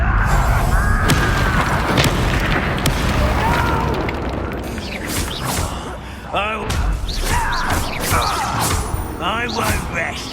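Confringo spell blasts in the Hogwarts Legacy video game, loud booming explosions and crashing bursts amid combat, with a voice calling out over the chaotic fight.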